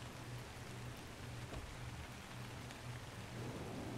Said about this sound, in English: I mean, it's raining.